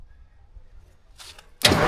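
A 1972 Diamond REO truck with an old Detroit diesel engine that has sat for twenty years cranks briefly, then bursts into a loud, rough start that keeps running at the end.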